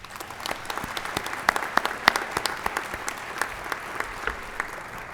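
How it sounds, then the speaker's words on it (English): Audience applause at a police department's annual awards ceremony, a steady crowd of clapping with a few sharp, closer claps standing out in the mix. "Please give them a round of applause."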